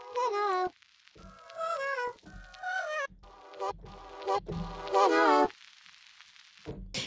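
Reversed, stretched layered sounds made in Logic Pro play as choppy, pitched, vocal-like fragments with backward swells, starting and stopping abruptly in uneven bursts, close and moderately loud.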